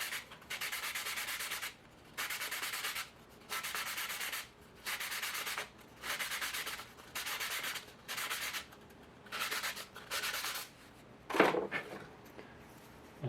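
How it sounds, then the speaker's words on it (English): Rhythmic back-and-forth strokes of 180 grit sandpaper scuffing the shiny coating off a model rocket body tube, roughly ten even bursts with short pauses between, close and clear with no talking. "sand off this kind of shiny coating so that we get a better gluing surface for the centering rings"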